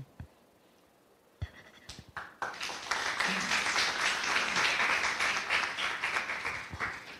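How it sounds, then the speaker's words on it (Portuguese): Audience applause at a university sustainability council meeting at UNICAMP, starting with a few scattered claps and swelling into steady, sustained clapping from a room full of people. "eu puxei a salva de palmas justamente para destacar a excelência do, do trabalho feito"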